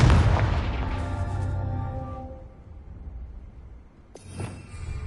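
A Confringo blasting spell explodes in Hogwarts Legacy, a loud booming blast at the start that rings and decays over a couple of seconds, followed by a quieter sharp burst near the end.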